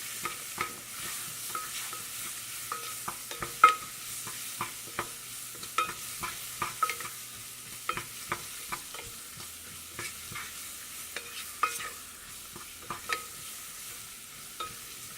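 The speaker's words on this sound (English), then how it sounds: "you want to continue to stir and cook this for about 3 minutes, just until the vegetables are translucent and softened" Vegetables for turkey gravy sauté in a pan with a soft continuous sizzle, while a utensil scrapes and taps the pan in irregular stirring strokes throughout.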